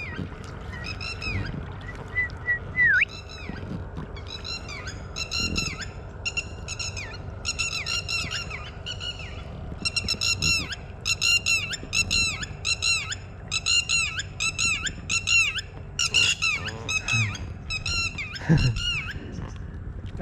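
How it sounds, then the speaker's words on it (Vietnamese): A flock of birds near a low, rocky river in a forest keeps up repeated harsh squawks and honking calls for about twenty seconds, fairly loud and close, over faint background ambience, with no speech. "Mấy con chim nó gặp mình cái nó quen luôn các bạn ơi."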